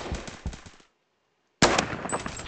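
Rapid automatic gunfire from the Phantom Forces video game bursts out in a close, loud stream, cuts to near silence for under a second, then resumes sharply at full volume.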